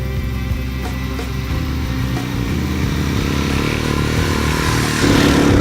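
A dual sport motorcycle rides along with a steady close engine drone that rises slightly in loudness toward the end.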